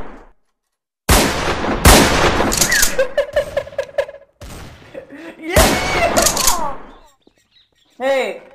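Rapid bursts of video game gunfire crack out in loud, dense volleys with brief pauses between them, and a character voice or shout is audible near the end.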